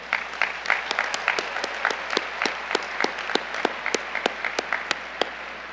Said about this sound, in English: Please join me in a round of applause for our deans.